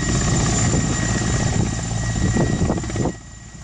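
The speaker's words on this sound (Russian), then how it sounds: "Около полудня в небе раздается звук приближающегося вертолета." A helicopter delivering supplies approaches over the Kanin tundra in the Nenets region, its rotor and engine drone loud and steady with a pulsing chop, then cutting off abruptly near the end.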